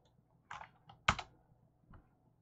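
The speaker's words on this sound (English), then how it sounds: "And we're going to type in our password." Password typed on a computer keyboard during a Windows server setup, a few sparse separate key clicks with one sharper louder press in the middle, quiet and close, with no talking.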